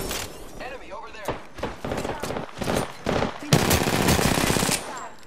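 Rapid automatic gunfire in Apex Legends, bursts of machine-gun shots and heavy impacts building in intensity, close and loud, with game voice lines speaking over the shooting.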